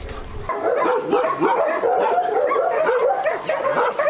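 Several shelter dogs bark, yip and whimper together in a dense, continuous chorus, loud and close, with no clear talk over it.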